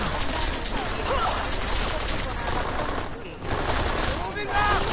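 Rapid gunfire in the Deus Ex Mankind Divided video game, dense crackling bursts running almost without pause over game ambience, with brief voice fragments mixed in.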